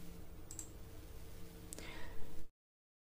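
A mouse click or two on a Windows restart option, faint and brief against a low steady room hum, with no talking.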